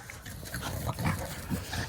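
A dog in a home garden makes short snuffling, grunting vocal sounds close by, in a rapid irregular series over steady background noise.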